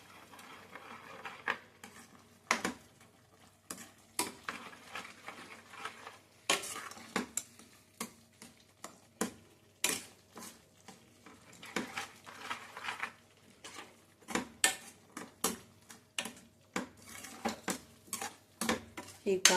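A spoon stirs and scrapes spices around a pan for dhaba-style palak paneer gravy, with steady clinks and scrapes of metal on metal, close up and continuous over a faint sizzle.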